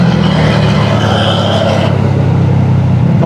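Trucks on a road rev their engines loudly and close by in a dense, continuous roar with a rising throaty growl, heard from a motorcycle ride with no talking.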